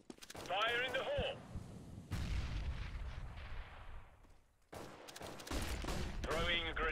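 Gunfire and a grenade blast in a competitive Counter-Strike match, booming shots and a rumbling explosion between two bursts of radio-style voice callouts, all fairly faint.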